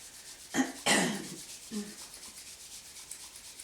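Hands rub together in a few short, breathy swishes, close and soft, with one longer stroke among them before quiet returns.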